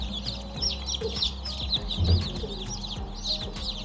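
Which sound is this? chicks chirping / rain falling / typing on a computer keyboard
chicks chirping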